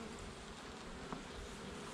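Honey bees buzzing steadily around an open hive during an early December inspection, a dense continuous drone close by.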